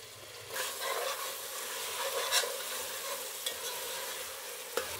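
Tomatoes tipped into a hot pan with frying rice for a Nellore broken-rice pulao, a sudden burst of sizzle then steady frying with a few scraping stirs and clicks.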